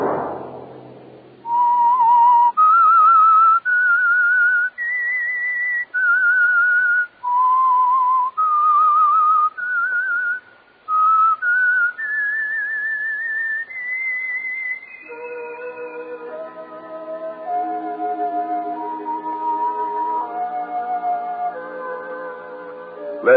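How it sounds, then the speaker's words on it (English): A lone whistler performs the eerie theme of the Signal Oil radio mystery program The Whistler: a long, clear, pure-toned melody of rising and falling held notes, then a sustained orchestral chord backing it in the later half. "Let that whistle be your signal for the Signal Oil program, The Whistler, each Sunday night at this same time."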